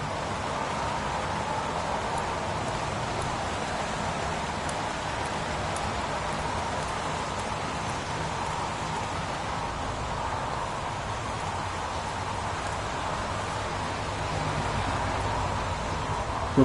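Steady heavy rain pours in a video game, a dense, even hiss that holds without a break from start to finish, with no voices over it.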